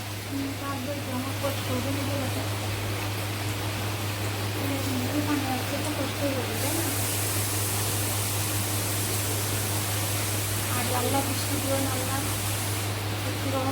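Floodwater flows into a house as a constant, loud rushing wash with a low steady hum beneath it. Voices talk faintly over the flow.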